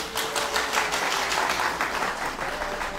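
An audience applauds during a rabbi's Torah lecture, a dense, steady burst of clapping that stays loud for the whole stretch.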